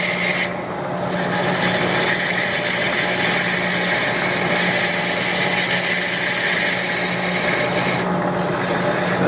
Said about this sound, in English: I'm just going to use a machinist scraper here